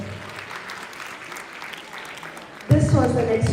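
An audience applauds a lecturer after a talk, a moderate, steady clapping that fades out before a voice starts speaking abruptly and loudly over the end.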